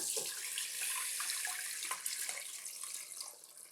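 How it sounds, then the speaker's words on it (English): Boiled banana peel liquid fertilizer is poured through a filter, a continuous close splashing and trickling stream of liquid lasting a few seconds, with no speech. "So now this has cooled down, we can strain it off."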